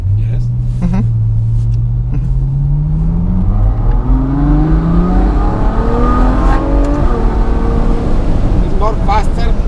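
Ferrari GTC4 Lusso V12 in sport mode, engine and exhaust pulling hard from inside the car, with a loud, continuous rising roar through successive gears and a raspy exhaust note, while people talk over it.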